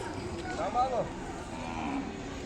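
Ongole cattle at the Kodada livestock market give a single moderately loud, drawn-out moo over a steady hum of market crowd noise.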